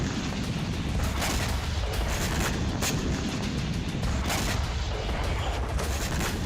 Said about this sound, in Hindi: एक के बाद एक कई धमाके हुए।